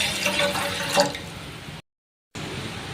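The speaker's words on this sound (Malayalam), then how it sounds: "ഒരു പാത്രം അടുപ്പ് വെച്ച് ഒരു രണ്ട് കപ്പ് വെള്ളം നമുക്ക് ഇതിനകത്തോട്ട് ഒഴിച്ചു കൊടുക്കാം" Two cups of water poured into a pot on a stove, a loud, close, continuous splashing stream that briefly cuts out and then resumes.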